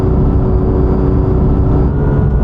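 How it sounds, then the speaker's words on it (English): A Porsche GT3 on the move with a thin, steady gearbox whine sitting above a constant rumble of engine and road noise, close and continuous. "the GT3 is making some wrong noises. Don't know if you can hear that. There's a sort of whine."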